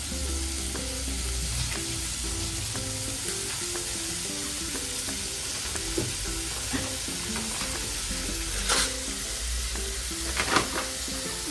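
Onion frying in a pan for Marathi mutton rassa, a continuous sizzle with low rhythmic scraping and stirring knocks, a few sharper clatters near the end, no talking.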